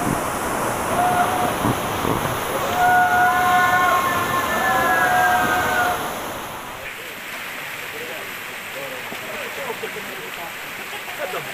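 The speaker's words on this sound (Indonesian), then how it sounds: "Air terjun Telaga." Steady roar of a waterfall, Telaga falls, heard on a Bali river rafting trip, a broad rushing wash that stays loud for about six seconds and then eases to a softer, more distant flow of water.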